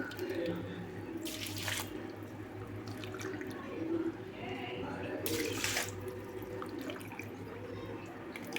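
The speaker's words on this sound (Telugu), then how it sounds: "ఇదే కప్పుతో 3 గ్లాసులు అయితే వాటర్ అయితే పోస్తున్నాను" Three cups of water pour and splash steadily into rice in a container for kuska biryani, with a couple of louder gushing bursts and faint background voices.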